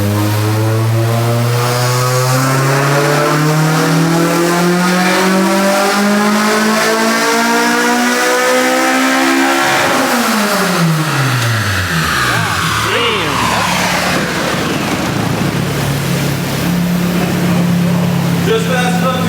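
A K24-engined Honda Integra Type-R runs a dyno pull indoors. The engine note climbs steadily in pitch to a loud, strained peak, then drops off abruptly and settles into a lower, rough decelerating drone.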